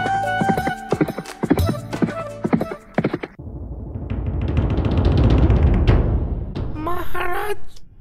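A horse's hooves clip-clop in sharp, rhythmic beats, then give way to a rumbling run of hoofbeats, with a whinny near the end, in an animated Hindi moral story.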